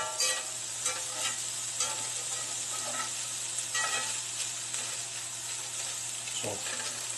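Denver sandwich filling frying in a pan, a continuous low sizzle with a spatula stirring through it in intermittent scraping strokes, close and fairly quiet, with no talking.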